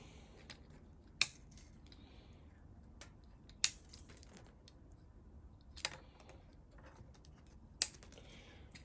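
Old strings clipped off an Epiphone SG guitar: a handful of sharp metallic snips and clicks, widely spaced over several seconds, close and crisp against a quiet background with no talk.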